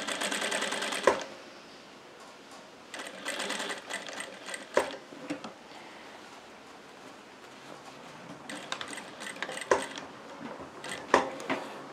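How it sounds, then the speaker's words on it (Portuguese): A sewing machine stitches around the side of a small fabric glasses case in several quick bursts of rapid mechanical whirring, separated by quieter pauses with light handling clicks. "Vamos tá costurando a volta toda"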